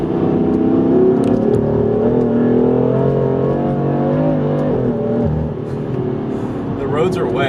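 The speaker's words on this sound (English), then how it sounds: "you can probably hear the car just fighting for traction because I have it in MDM mode, so it's continuously just cutting power" BMW F82 M4 with aluminum charge pipes accelerating hard on a wet road, the engine note climbing through gears and stuttering as traction control cuts power, loud and close with tire noise at the end.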